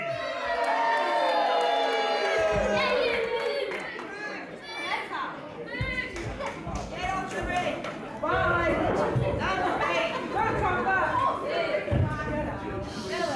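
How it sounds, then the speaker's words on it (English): A wrestling crowd jeers at a wrestler, a dense roar of many voices with shouts and whistles rising and falling, loud and continuous, with a voice speaking over it at times. "I walked out here and you guys booed me."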